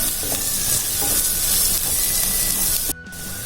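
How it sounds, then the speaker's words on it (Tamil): Onions sauté in a pan for bread upma, a steady loud sizzle and hiss with light stirring scrapes, briefly dropping away near the end. "வெங்காயம்லாம் நல்லா வதங்கிடுச்சு."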